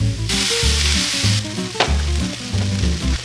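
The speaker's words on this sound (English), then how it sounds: "You just want to saute these onions until they're like a nice golden, yellow, brown." Onions sauté in a pan for a vegan pot pie, giving a steady close sizzle and frying hiss, with stirring noises and a low rhythmic background hum throughout.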